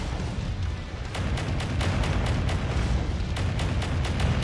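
Missiles strike in a mech combat video game, producing a rapid series of loud booming blasts that pile onto a constant rumble of battle noise.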